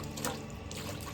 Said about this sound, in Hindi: ये जो जीव है उस पे पानी डाल करके बिलछानी करें